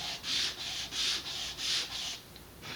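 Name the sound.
sanding wood on a large sheet of sandpaper to remove burr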